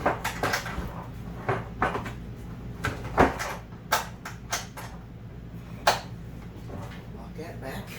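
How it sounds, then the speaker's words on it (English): Cabinet door clatters open beneath an RV dinette table, a series of sharp wooden knocks and bangs scattered over several seconds, fairly close, with a low background hum. "I popped that door under there"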